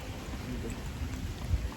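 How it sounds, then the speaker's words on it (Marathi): Low, steady wash of rain falling, a soft continuous rumble with faint spatters, fairly quiet and without voices. "पाऊस चालू झालाय मित्रांनो"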